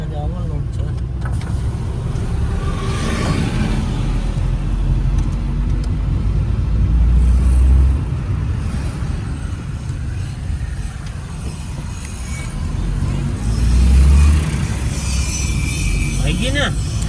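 A car engine rumbles steadily on a test drive along a road, with people talking over it throughout and the engine note swelling briefly twice.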